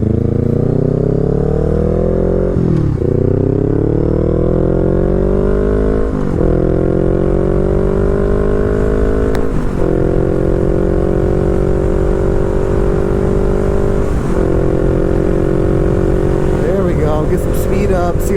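A Kawasaki Z125 motorcycle rides at just under highway speed, its engine droning loud and close with pitch climbing through each gear, dipping briefly at several shifts, with heavy wind rumble throughout.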